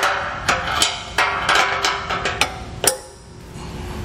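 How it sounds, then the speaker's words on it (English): Pry bar working an isolator off the frame of a 2021 Chevrolet Equinox during trailer hitch installation, giving sharp metallic clicks and knocks at irregular intervals, close and fairly loud, with no talking. "we're gonna go ahead and use a pry bar here and we'll just get this isolator pried off"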